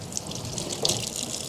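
Water from a home kitchen tap runs steadily for hand washing, a soft continuous splashing with a brief louder gush partway through, close by and with no talk.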